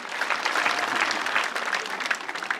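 Dense, steady applause from an audience at a church gathering, filling the whole stretch at an even level with scattered louder claps near the end.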